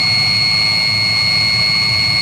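A Chinese diesel water heater runs steadily with a loud, continuous roar and a sustained high whine, close by and alone, with no talking.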